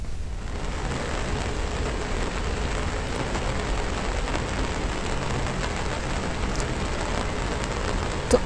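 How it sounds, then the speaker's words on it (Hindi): Heavy rain pours down steadily during a cloudburst in Uttarakhand, a dense, constant roar with no pauses. "तो आफत की बारिश आप देख रहे हैं"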